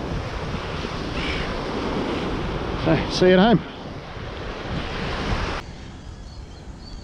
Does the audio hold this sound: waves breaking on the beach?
yes